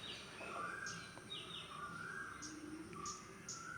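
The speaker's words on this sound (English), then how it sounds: "There's all sorts of warbling and trilling and cooing and cawing." Birds call outdoors, with scattered chirps, trills and short warbling phrases, some near and some farther off, over a soft, steady background of ambient noise.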